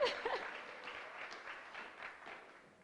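A faint round of applause from an audience at a mayor's State of the City address, soft and somewhat distant, fading gradually, with a brief voice near the start.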